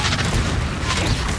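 A Confringo blasting spell goes off in the Hogwarts Legacy video game, a dense, rumbling boom that sustains loudly for over a second amid chaotic combat noise.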